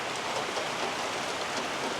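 Steady rain pours down at a weekly village market in Dhebewadi, a dense continuous hiss with no breaks and a brief louder patter at the very end.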